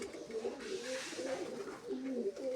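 Pigeons coo softly in repeated throaty rolling phrases, faint and fairly close, with no voices over them.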